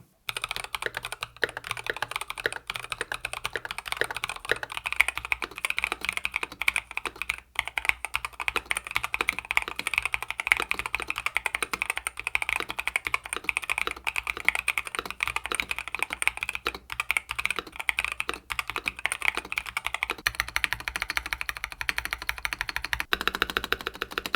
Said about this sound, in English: Now let's hear the typing test with the 2-layer tape mod.